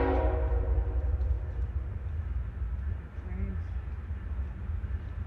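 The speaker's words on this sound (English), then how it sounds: "we're a lot closer to the train in this part of the property, so it's going to be a lot louder" A train passes close by, giving a steady loud low rumble throughout, with brief tonal squeals in the middle, in a riverbed training area.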